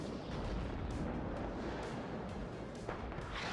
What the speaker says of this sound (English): Artillery coming in on those BMPs there